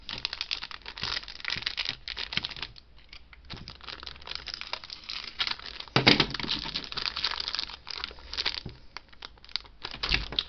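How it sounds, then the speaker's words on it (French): Crinkling plastic blister packaging being opened to free a Millennium Falcon model kit sprue, a continuous run of close crackles, crunches and small tearing sounds with brief pauses. "je vais tout de suite l'ouvrir, la déblistériser plutôt"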